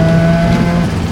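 A rebuilt Mazda RX-7 FD drives on a mountain touge road with a steady engine drone and tonal whine, loud and close from inside the car; the rattling is not distinct.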